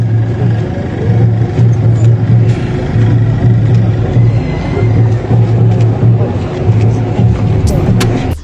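A car pulls away on a road near Nagaon College in Assam, its engine a loud, rumbling drone with a rising and falling pulse, while voices carry on around it.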